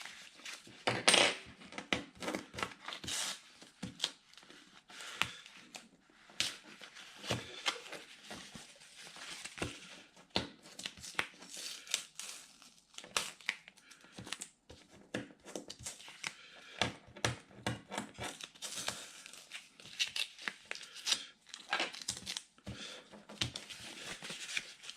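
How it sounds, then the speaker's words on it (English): Adhesive tape being peeled off the back of Gore-Tex fabric during a repair, heard as irregular crinkly rips and small crackling taps, close and fairly quiet, with no talk. "So now we just remove as much of the tape as we can."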